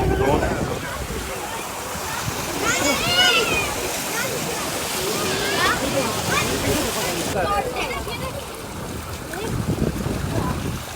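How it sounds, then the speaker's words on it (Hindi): Water gushes and splashes from a village tubewell in a field as vegetables are washed under it. The rushing flow stays loud and continuous, with voices over it. "अब हम जा रहे हैं सब्जियों को धोने और खुद को धोने इस ट्यूबवेल में"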